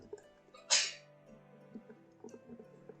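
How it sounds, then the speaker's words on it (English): One sharp, close sneeze bursts out alone against a quiet background, followed by faint breathing and small room noises. "Sorry, sneeze."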